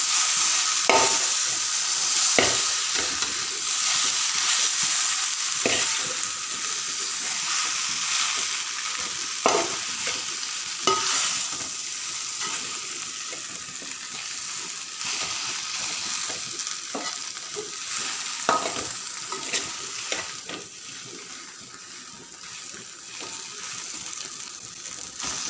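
Boiled tapioca cooked with salt and turmeric being stirred and fried in a pan, a steady sizzle broken by repeated scraping clicks of the spoon against the pan throughout.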